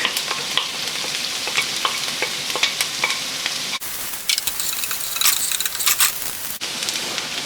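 Onions and garlic sautéing in a pan for creamed spinach, a steady close sizzle with frequent stirring scrapes and clicks, no talk.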